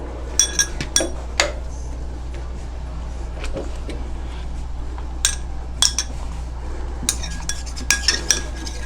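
A utensil stirs a seaweed facial mask mixture in a bowl, giving repeated light clinks and scrapes against the sides in uneven bursts over a low steady hum.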